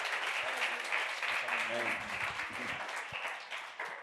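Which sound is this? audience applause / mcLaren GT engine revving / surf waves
audience applause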